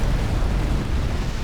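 Firestorm spell explosion in Skyrim, a dense continuous roaring rumble heavy in low end, loud and sustained for about a second and a half with no talking.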